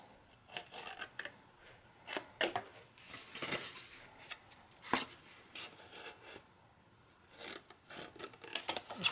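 Scissors snip paper tabs shorter for a homemade Easter basket, giving a run of quiet, irregular close-up cuts with small rasping rubs between them and no talking.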